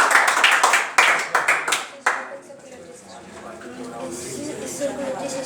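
A classroom bursts into a short round of clapping, with several sharp clustered hand claps fading out after about two seconds, followed by quieter room sounds and a voice talking.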